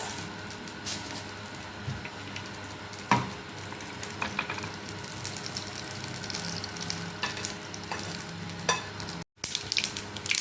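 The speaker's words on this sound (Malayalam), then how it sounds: "ഇപ്പം നമ്മളെ കടുകൊക്കെ പൊട്ടുന്നുണ്ട്" Mustard seeds splutter and crackle in hot coconut oil, a steady frying sizzle broken by sharp pops and clatters, with a brief cutout near the end.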